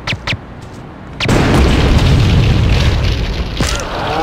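A rocket launcher blast in GTA2 hits as a sudden loud boom after a few short clicks, then rolls into a sustained rumbling roar that holds steady to the end.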